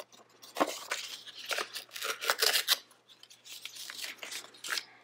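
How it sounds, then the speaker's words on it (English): A sheet, likely paper, is being torn into smaller pieces by hand in a series of close, crisp ripping and crinkling bursts, irregular in rhythm with short pauses between tears. "you can do this where you fold it and rip it into smaller pieces"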